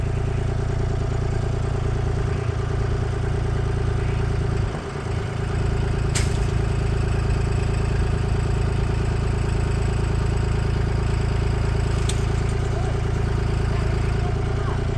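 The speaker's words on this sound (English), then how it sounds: "Dawn, try to back up. Very low gear. Just back up a little bit" A vehicle engine runs at a steady low idle while backing up slowly in very low gear outdoors, holding a continuous close drone with a brief dip and a couple of faint sharp clicks.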